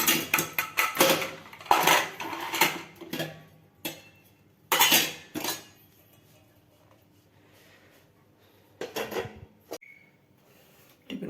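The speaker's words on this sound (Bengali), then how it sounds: "এই টিফিন কৌটোয় প্যাক করে নেব।" Steel tiffin box and utensils clinking and clattering in bursts while cooked vegetables are packed into it before dawn, close and fairly loud, with quiet pauses between handling sounds.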